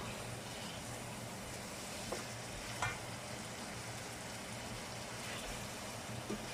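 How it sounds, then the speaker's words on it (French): Onion sautéing in a pan while cooking salt cod with vegetables, giving a steady, soft sizzle and frying hiss throughout with a few faint clinks of stirring. "Faire revenir l'oignon."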